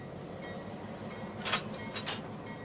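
A NASA train idles at a Locomotive Maintenance Facility, giving a steady low rumble and hum. Two brief brighter hisses or clanks rise over it near the end.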